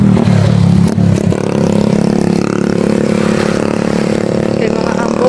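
Motorcycle engine revving close by in the open along a bypass road, a steady loud drone with rising and falling pitch and some clattering, without clear talk.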